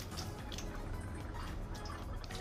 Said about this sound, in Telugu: ట్యాప్లు కూడా ఆన్ చేసేద్దాం.